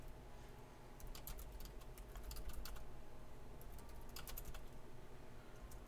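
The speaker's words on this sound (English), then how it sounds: "Jeez, I'm typing terribly." Computer keyboard typing while writing up a tabletop RPG adventure analysis, several short bursts of rapid, close keystrokes separated by quiet gaps, over a faint steady background hum.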